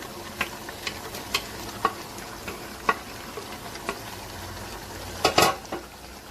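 Fried potatoes and capsicum being stirred in a big pot of oil for Sudanese kebab: a quiet, steady sizzle broken by scattered clinks and scrapes of a utensil, with a louder clattering stir near the end.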